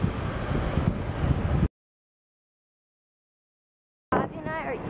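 Gusty wind buffets a microphone outdoors, a loud broadband rumble for the first second and a half, then silence, then it returns under a voice.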